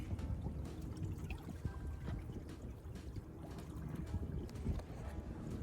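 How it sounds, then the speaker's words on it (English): An Aquarius 21 sailboat on an easy day sail over flat seas, with steady water wash and wind rumble against the hull, continuous and fairly close, no voices. "And just went out for a nice easy day sail."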